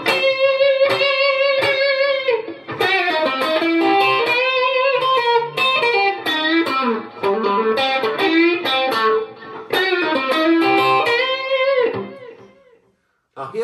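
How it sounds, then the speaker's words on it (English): An electric guitar with Lindy Fralin Steel Pole 43 pickups, bridge and middle out of phase, plays a distorted blues lead: loud sustained notes and bends in a lively phrase, ending in a brief silence. "I've got this in the bridge, in the middle,"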